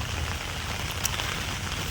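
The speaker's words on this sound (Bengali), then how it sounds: "এখন একটু বৃষ্টিটা একটু কম আছে তবু দেখো অন্ধকার করে আসছে আবার জোরে বৃষ্টি হবে" Steady rain patters on surfaces nearby in a Bengali village, an even hiss with occasional distinct drips, no voices.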